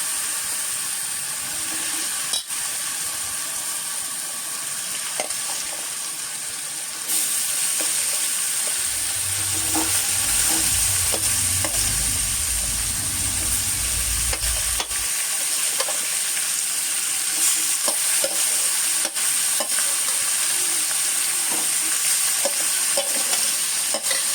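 A raw jackfruit vegetable mixture sizzles steadily in a pan with a continuous hiss, while a spoon stirs and scrapes through it near at hand, with a louder burst of frying midway.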